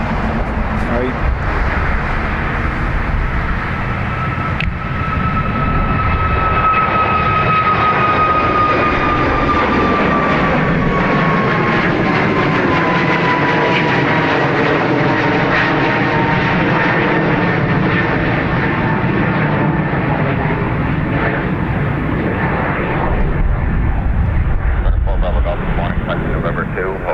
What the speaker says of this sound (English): So that Ryanair was off to Manchester